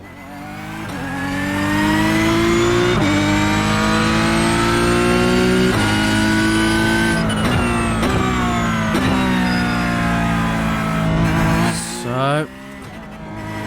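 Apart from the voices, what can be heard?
Porsche 911 GT3 Cup 992 engine and exhaust, racing video game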